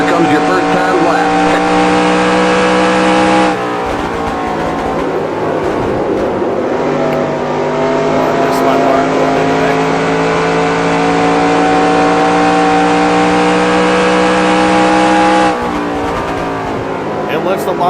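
A race car laps a concrete oval in NASCAR Racing 2003, its engine droning loud and steady at high revs with harmonic whine, shifting pitch through the corners while someone talks over it.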